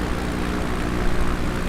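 Piper Cub propeller engine in Microsoft Flight Simulator 2020, flying into strong typhoon winds, gives a steady, dense drone that holds at constant loudness without pauses or voices.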